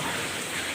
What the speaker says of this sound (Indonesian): Tadi hujan lebat diiringi dengan petir